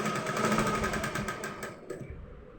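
A sewing machine stitching a teddy bear seam whirs rapidly and steadily for a couple of seconds before slowing and stopping, close and fairly loud.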